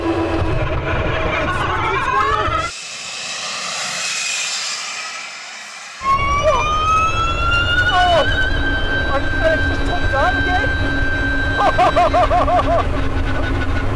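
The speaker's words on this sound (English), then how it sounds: "Dial the fan up. Here comes the fan. Throw the throttle." A 1,000-horsepower fan car launches at full throttle on a damp track, its loud engine and fan rising in a sustained climbing whine, with a brief muffled gap before the roar resumes.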